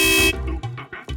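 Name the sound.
vehicle horn honking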